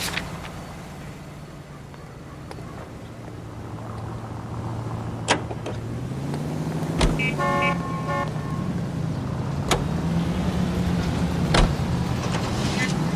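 A car driving in the video game L.A. Noire, with a steady engine hum whose pitch rises as it speeds up, scattered clicks and thumps, and a short horn toot, heard from inside the vehicle.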